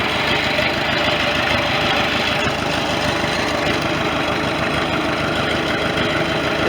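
A 1973 International loader tractor engine idles steadily and close by, a continuous rough mechanical rumble with vibration that holds an even level throughout with no talking.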